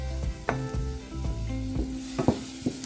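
Onions and garlic sauté in cooking oil in a pot, a steady close sizzle under clinks and scrapes of stirring, with a few sharper knocks of a utensil against the pot.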